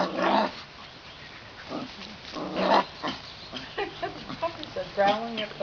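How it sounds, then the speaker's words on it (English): Puppies growl and whimper at their mother in short, faint bursts close by, broken up by quiet pauses. "puppies are growling at the mother"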